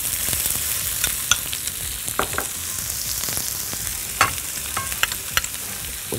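Chopped onion frying in olive oil in a pot, a steady bright sizzle with occasional sharp crackles and spoon stirring clicks, close and continuous with no talk.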